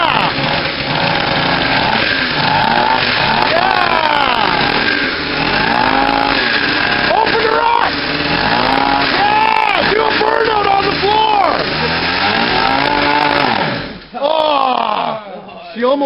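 A dirt bike engine running just after a cold start indoors, a loud, rough revving drone that rises and falls in pitch over and over, with people talking and exclaiming around it before it cuts out near the end.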